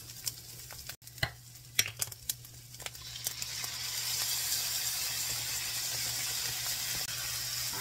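Pasta, sauce and spaghetti sauce for a casserole are stirred together in a pot, with several close scraping knocks of the spoon followed by a steady soft sizzling hiss.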